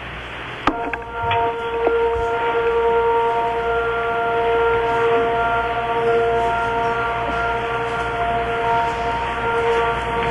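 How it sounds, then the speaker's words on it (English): A steady air raid siren in Riyadh during the 1991 Gulf War drones loud and unbroken, a sustained mechanical wail holding its pitch, with a brief knock near the start. "the sound of air raid sirens tonight as war is underway in the Middle East"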